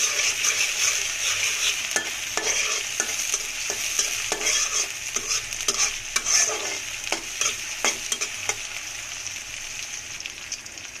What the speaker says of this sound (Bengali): পেঁয়াজ দিয়ে দিচ্ছি, পেঁয়াজটা একটু ভেজে নিচ্ছি,